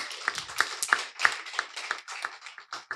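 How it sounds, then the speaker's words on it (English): A small group of students and audience at a school debate competition gives a round of applause, sparse individual claps with a pronounced rhythmic beat, fairly close and quiet. "So give yourselves a round of applause once again"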